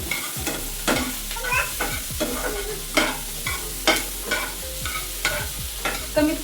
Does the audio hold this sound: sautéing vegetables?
yes